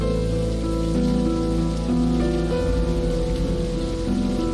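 Steady video game rain hissing continuously over a low droning music bed, loud and unbroken throughout.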